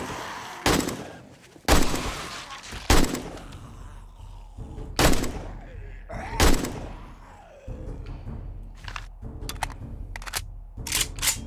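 Shotgun and AK rifle fire in the zombie survival game 7 Days to Die, fighting a wandering horde: loud, sharp single blasts spaced a second or two apart, then a quicker flurry of lighter shots near the end.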